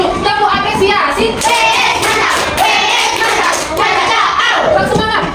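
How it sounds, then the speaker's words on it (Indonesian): Schoolchildren in an Islamic religious education classroom chant and clap a rhythmic appreciation cheer together, loud and close, with voices over the claps throughout. "kita kasih dulu tepuk apresiasi."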